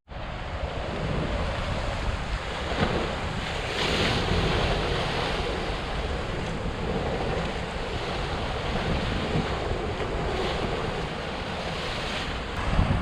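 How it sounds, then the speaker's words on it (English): Sea waves crash against a promenade at night, a loud, steady roar of surf mixed with heavy wind buffeting the microphone, with no voices. "not get drenched by the crashing wave like that"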